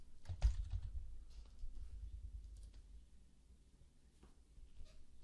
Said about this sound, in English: So I'm going to first type in the yes answer.